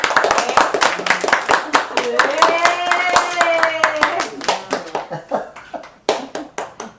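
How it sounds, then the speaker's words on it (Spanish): A small congregation at a church service claps in distinct, close, uneven hand claps, with a drawn-out vocal cheer rising in the middle and the clapping thinning to a few scattered claps at the end. "Un aplauso a Edward."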